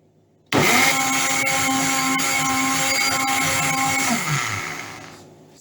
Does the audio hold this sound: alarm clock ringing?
no